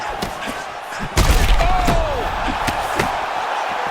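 Heavy strikes thud in an EA Sports UFC 6 bout between Kevin Vallejos and Dan Ige, a loud slam of impact followed by a sustained crowd roar and scattered softer hits.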